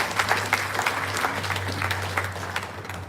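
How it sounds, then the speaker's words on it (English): Audience applauding in a temple courtyard during an evening Ramayan Yagna gathering, a steady wash of many hands clapping continuously, fairly close and full, with a low hum underneath. "I think they deserve a very round of applause."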